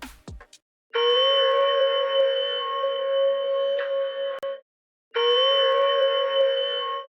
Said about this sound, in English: I added this one shot from Slate Digital. It's like a ringing bell